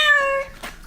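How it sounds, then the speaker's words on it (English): A pet cat gives a single short, clear meow close by, a tonal cry that fades quickly into quiet room sound. "my cat has joined us"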